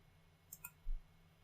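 Two quick, faint computer mouse clicks, close together and crisp, followed by a soft low thump, over a quiet background hum.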